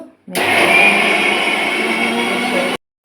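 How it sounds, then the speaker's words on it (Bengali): A kitchen mixer grinder whirs steadily as it grinds dal into paste, a loud continuous motor drone that starts abruptly, holds for about two and a half seconds and cuts off sharply. "এখন আমরা বেটে নিচ্ছি ডালটাকে, বাটা মানে পেস্ট করে নেব মিক্সিতে।"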